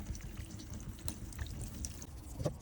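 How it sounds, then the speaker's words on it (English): Water sprinkled by hand onto the paintwork of a Fiat 500 during clay bar detailing, a soft continuous splashing and trickling with a few brief louder splashes, close by. "So sprinkle some water on."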